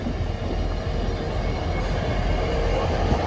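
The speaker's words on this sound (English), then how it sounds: "this is the Sheffield train now" A steady, heavy rumble of a passenger train rolling past close by at Castleford, England, continuous and loud throughout with no voices.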